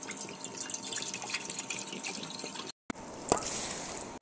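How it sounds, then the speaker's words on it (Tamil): Water poured from a vessel into a cooking pot while making chicken semiya biryani in a home kitchen, a steady splashing stream, a short break, then a thinner trickle with a clink. "சீமியா எடுத்ததுல ரெண்டு பங்கு அளவுக்கு தண்ணிய இப்போ ஊத்திட்டோம்"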